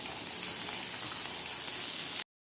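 A tempering of oil, urad dal, dried red chillies and curry leaves fries in a small pan with a steady close sizzle that cuts off abruptly near the end, with no voices.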